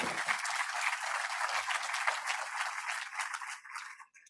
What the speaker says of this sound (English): let's give a round of applause to our donors and benefactors